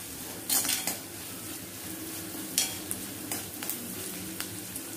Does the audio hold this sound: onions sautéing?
yes